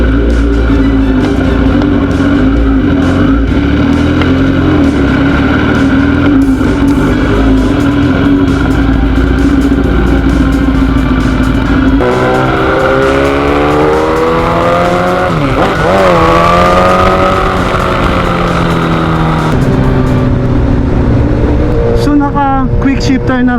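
A Suzuki GSX-S1000 with a quick shifter being ridden, its engine droning loud and steady before rising and falling through revs, with a voice talking over it much of the time.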